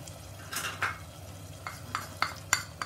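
Tomato masala cooks quietly in a pan, a soft low sizzle under a low hum, with a few scattered scrapes and taps of a spoon stirring through it.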